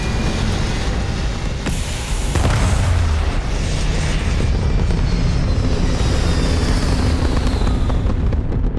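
A loud, sustained roar from a rocket or aircraft lifting off, broadband and rumbling with deep low-end power, holding steady for the whole span with a few sharp crackles and a faint rising whine partway through.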